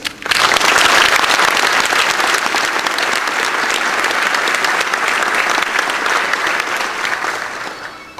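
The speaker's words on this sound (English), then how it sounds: "Please give a warm round of applause for Christine Peterson." Conference audience at OSCON 2008 applauding a speaker, a dense, steady wash of many hands clapping that swells quickly, holds loud for about eight seconds and tapers slightly at the end.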